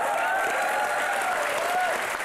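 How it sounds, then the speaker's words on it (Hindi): An audience at a televised comedy show breaks into steady, loud applause, a dense continuous clapping that fills the room throughout. "इन दोनों के लिए जोरदार तालियां हो जाए।"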